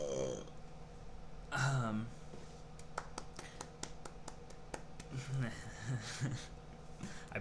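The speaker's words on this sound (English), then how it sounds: "I burped." A close, throaty burp in a casual podcast setting, followed by a string of sharp hand claps from another person, with conversation and low room noise around it.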